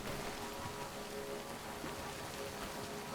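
Steady rain pours in a Death Stranding game scene, a dense, even hiss of falling drops that stays loud and unbroken throughout.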